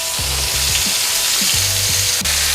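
Rouladen searing in fat in a hot pan: a loud, constant sizzle with soft thumps and scraping as the pieces are moved and turned, no speech.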